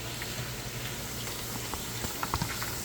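Potato chips fry in hot oil in a home kitchen, giving off a faint, steady bubbling hiss broken by a few small pops and crackles.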